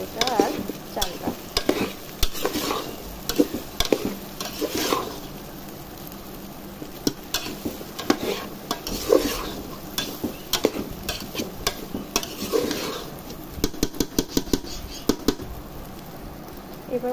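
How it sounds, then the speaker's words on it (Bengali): Potatoes and rice fry in a pan while being stirred, a constant sizzle under frequent scraping and clacking strokes of the spoon, close and fairly loud throughout. "ভাজা হচ্ছে আলুটা আর চালটা।"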